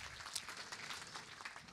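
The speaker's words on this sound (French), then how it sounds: "vous pouvez l'applaudir très fort" Faint, continuous clapping from an audience in a lecture hall, a steady patter of many hands without a clear start or end.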